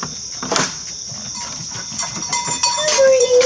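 Goats on a small farm at breakfast time, with animal calls and rustling movement near the barn, a sharp bleat-like cry rising near the end over low background bustle.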